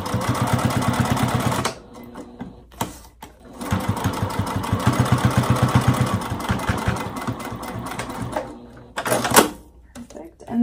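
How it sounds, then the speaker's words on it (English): A sewing machine basting through a zipper on an ID badge holder, with two long runs of fast, steady stitching separated by short pauses, close and loud, while a voice talks over it. "I'm basting through my zipper just along the top, going along the sides"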